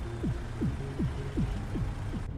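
Faint, evenly spaced bass thumps of music drift from a neighbouring car beside the truck in American Truck Simulator, pulsing about twice a second under a low road hum.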